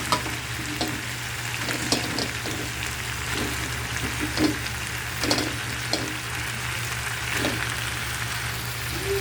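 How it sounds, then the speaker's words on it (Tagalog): Chicken and green papaya sauté in a pan for Filipino tinola, a steady close sizzle with intermittent stirring scrapes and clinks, no talking. "Yan, nagisa na natin mabuti ang chicken."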